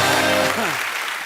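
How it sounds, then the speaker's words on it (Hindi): Loud applause from the studio audience of a television comedy talk show, starting under a brief voice and continuing as a steady wash of clapping. "जोरदार तालियां हो जाए एक बार।"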